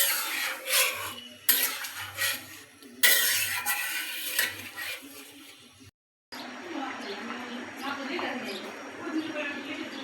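A spoon scrapes and rubs through lentil dal with potatoes in a pot, in repeated rasping strokes with short pauses. A voice can be heard at times.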